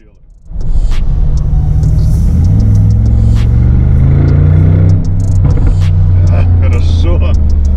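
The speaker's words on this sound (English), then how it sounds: "Let's give a little gas and then just free the pedal." A Mercedes G63 4x4² engine roars to life and revs, a deep rumbling growl that rises and settles, loud and close, with a few clicks over it.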